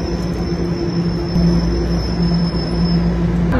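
Subway train running through an underground tunnel in Canada, a steady loud rumble with metallic wheel squeal and a high whine held throughout, no voices.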